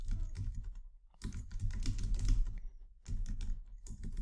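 Computer keyboard typing in bursts of quick, close key clicks, with short pauses between runs of keystrokes, while a report version is named in a Looker Studio report; no voices.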